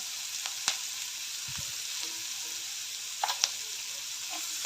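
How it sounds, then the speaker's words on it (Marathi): Onions frying in a pan as turmeric is added, a soft steady sizzle with a few faint clinks and taps of a spoon, fairly quiet and with no voices. "कांदा चांगला भाजलेला आहे त्यामध्ये आता अर्धा चमचा हळद घालते"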